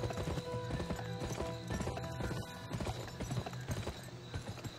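Galloping horse hooves in the Western video game GUN, a fast, rhythmic clip-clop that stays close and loud throughout, with a brief whinny and game music or ambience underneath.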